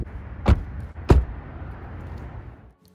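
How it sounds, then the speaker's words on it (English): Two solid thuds of a 2021 BMW 530i door shutting against thick rubber seals, a second apart, close and fairly loud, followed by quiet cabin ambience. "just listen to the way it shuts."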